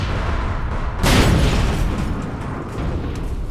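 A grenade detonates in the online shooter APB Reloaded with one heavy, close boom that swells suddenly and fades into a steady rumbling game background.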